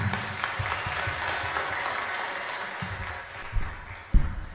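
An audience applauds a speaker after a talk with a sustained, moderate clapping that tapers slightly, and a few sharp bumps and knocks come near the end.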